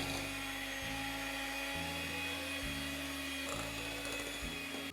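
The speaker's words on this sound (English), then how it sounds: "I'm going to beat my eggs with my hand mixer on high speed until they're fluffy" An electric hand mixer beats eggs on high speed, a steady whirring hum with faint rhythmic changes in pitch, no talking.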